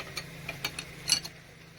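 A rebuilt 350 small-block Chevy engine on the bench is turned over by hand, giving faint, scattered mechanical clicks and ratchet-like ticks, up close and alone.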